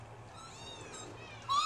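A cat meows once, loud and close, at the end, after a short stretch of quiet room noise with faint chirps.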